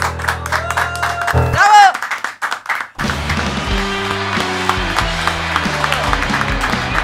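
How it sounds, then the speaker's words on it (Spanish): Audience applause fills a radio show studio after a live set by an Argentine cuarteto band, a dense steady clapping wash running for several seconds over stepped bass-heavy music that starts after a brief loud musical burst. "Quiero que le demos un fuerte aplauso"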